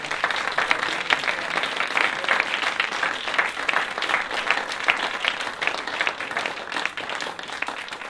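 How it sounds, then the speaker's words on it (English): An audience at a jazz workshop applauds its faculty and administration, a steady, dense patter of many hands clapping that continues evenly for about eight seconds. "could you please give a round of applause for your faculty and administration?"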